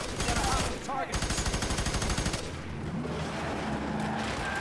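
Rapid automatic gunfire from the video game Fear 3 rattles loudly in dense bursts for the first couple of seconds, then gives way to a steadier rumble of game noise and scattered shots.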